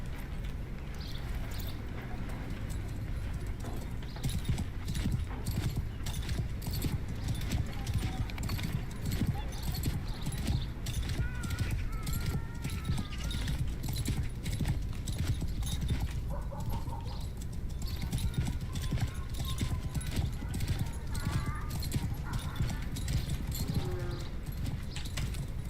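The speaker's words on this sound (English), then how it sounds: "I should probably use my horse" Horse hooves clip-clopping steadily in Mount & Blade II: Bannerlord, a continuous rhythmic trot under game ambience with faint bird calls, sustained throughout.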